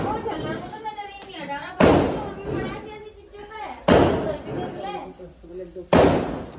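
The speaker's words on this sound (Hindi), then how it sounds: "पटाखे पटकाए जा रहे हैं।" Loud firecracker bursts set off during Diwali celebrations at home, three sharp bangs spaced about two seconds apart, ringing out over continuous talking in the foreground.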